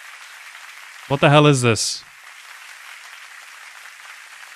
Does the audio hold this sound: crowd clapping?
yes